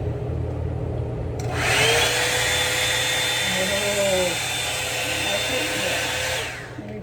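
Revlon One Step hair dryer running steadily at close range, a loud continuous rushing whir that holds for several seconds before dipping at the end, with a faint pitch shift partway through.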